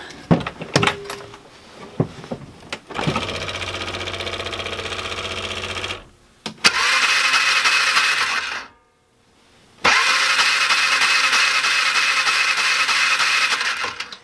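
A Polaris Ranger utility vehicle's engine cranks over in two long whirring bursts of several seconds each without starting, loud and close, after some clicks and clunks.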